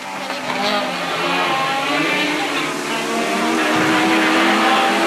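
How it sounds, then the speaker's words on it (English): A rallycross car engine roars steadily and loudly for several seconds at Mondello Park, its pitch wavering as it approaches, with a raspy, buzzing tone throughout. "You can hear the power of the engine again coming down towards us"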